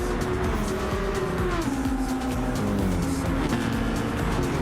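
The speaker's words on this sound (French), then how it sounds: "attention, là on lâche l'accélérateur, on freine pas" A BMW race car engine at Mount Panorama drones steadily as the driver lifts off the throttle without braking, pitch sliding down under constant loud engine and road noise, with no talk.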